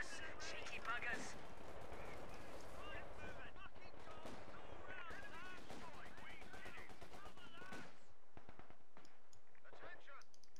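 Infantry rifle and machine-gun fire in Company of Heroes 2, a dense stretch of rapid shots and bursts mixed with battle noise, with players talking over it before it thins out near the end.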